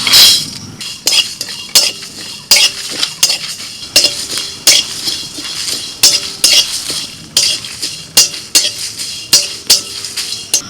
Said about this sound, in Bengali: গরম কড়াইতে এই মশলাগুলো দিয়ে দিলাম